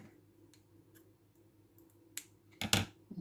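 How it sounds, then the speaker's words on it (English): Small scissors snip a short length of beading thread while a bow bracelet is made: a faint click, then two sharp, close snips near the end, over a quiet room. "So then I'll cut my short thread."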